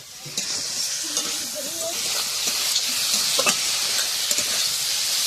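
Puti fish curry masala sizzles and is stirred in a pan on a wood-fired clay stove, with steady close frying hiss and occasional spoon scrapes and clinks.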